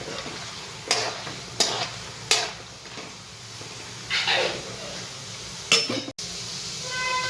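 Roasted gram and desiccated coconut are stirred in a pan for millet chevda, with a soft continuous sizzle punctuated by several sharp scraping strokes of a spoon against the metal.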